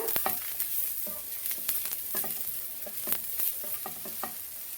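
Vegetables for veg momos fry in oil over a slow flame, a steady close sizzle broken by frequent scraping stirs of a spoon against the pan, with no talking.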